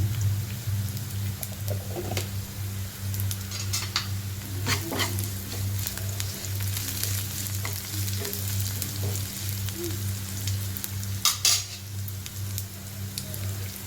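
Cumin seeds sizzle in a frying pan, a steady close crackle with scattered pops and stirring scrapes over a constant low hum.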